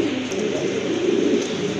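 A pet pigeon coos softly in a low, rolling burble, close and brief, with no voices over it.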